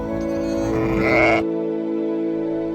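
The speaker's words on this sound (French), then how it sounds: "on a pu voir les agneaux fraîchement sortis de l'emballage" Newborn lambs on a farm in the Pyrenees bleat, one loud, close, wavering cry lasting over a second, followed by a low steady hum.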